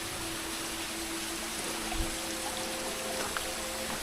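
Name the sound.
water flowing from a spout like a mini waterfall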